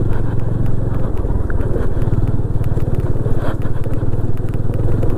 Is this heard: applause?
no